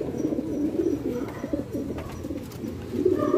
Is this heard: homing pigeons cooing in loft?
yes